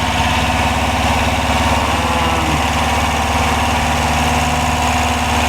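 VW Autovilla camper van engine idling very high, a loud, steady mechanical drone with a fast even pulse and constant vibration, with no pauses.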